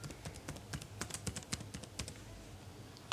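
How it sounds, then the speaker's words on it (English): Soft, rapid keystrokes on a computer keyboard as a password is entered, a quiet, uneven clicking run over about three seconds. "Enter the password."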